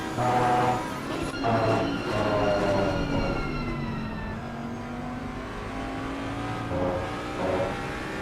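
Audi R8 GT3 race car engine in the racing game Assetto Corsa Competizione at Barcelona, a steady revving drone with rising and falling pitch sweeps as gears change, loud and continuous with no speech.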